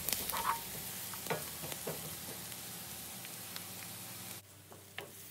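Onions sautéing with grated garlic, ginger and chopped green chilli give a faint, steady sizzle broken by a few soft utensil clicks and stirring scrapes, quiet throughout with no voices.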